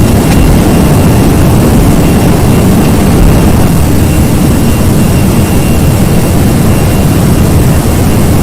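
The jet engines of an Airbus A319 spool up at takeoff thrust in a flight simulator, a loud, continuous, dense roar with a deep low rumble that holds steady throughout.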